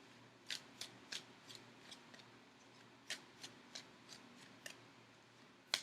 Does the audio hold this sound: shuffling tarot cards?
yes